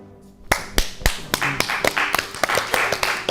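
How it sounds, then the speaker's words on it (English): Hands clap in a quick, uneven burst of sharp, loud claps, about a dozen in three seconds, close by with no talk over them. "Oh wait, not supposed to be clapping."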